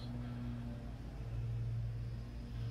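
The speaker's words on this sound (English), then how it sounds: "the neighbors are getting their lawn cut" A neighbor's lawn mower drones steadily in the distance, a constant low engine hum with slight pitch wavering and no talking over it.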